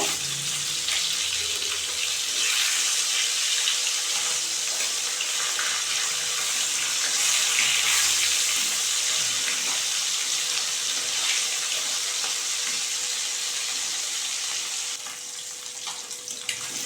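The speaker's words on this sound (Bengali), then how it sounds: "তো বন্ধুরা আমি চারটে চারটে করে ভাজছি" Steady, dense sizzling of koi (climbing perch) fish frying in hot oil, a continuous crackling hiss that holds for the whole stretch and eases slightly at the end.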